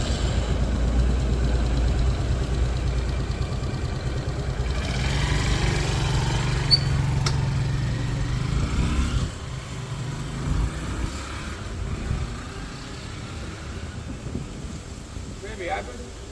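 Motorcycle engine during a braking practice ride, a low steady drone with wind noise on the microphone that eases off partway through as the bike slows.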